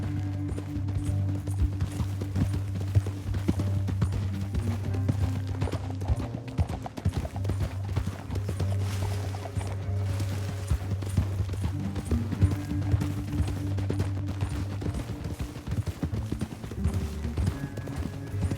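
Steady clip-clop of horse hooves galloping at an even pace in the video game Red Dead Redemption 2, loud and close, with a rumbling low hum running underneath throughout.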